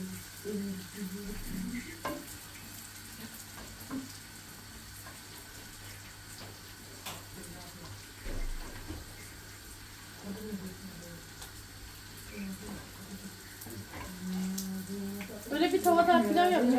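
Rice heats in melted butter in a pan with a low, uneven sizzle and occasional stirring, faint and close, picking up with louder clatter near the end.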